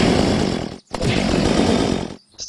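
A chainsaw in the video game Unturned roars loudly in two revving bursts, cutting out briefly between them and trailing off near the end.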